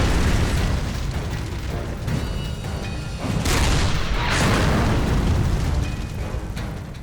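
Tank guns and explosions roar through a Battle of Kursk reenactment in a dense, continuous barrage, with booming blasts and mechanical clatter layered throughout.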